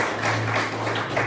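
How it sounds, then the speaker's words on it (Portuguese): A church congregation claps in a brief, dense burst of applause that runs evenly throughout, moderately loud with no talk. "Palmas para Jesus, amado."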